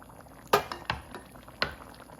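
Pasta cooking in stock in a pot, with a few sharp metallic clinks of a lid or utensil against the pot over a quiet bubbling background.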